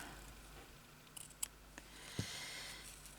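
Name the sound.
scissors cutting in embroidery stitchery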